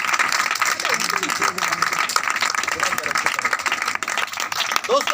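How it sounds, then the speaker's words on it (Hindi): A church congregation claps loudly and continuously, a dense, crackling wash of applause with a voice speaking over it. "मेरे यीशु के लिए एक बार फिर से जोरदार तालियां।"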